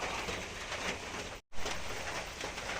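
Steady light rain falls outdoors as a dense, even hiss, broken once by a brief dropout midway before the patter resumes unchanged.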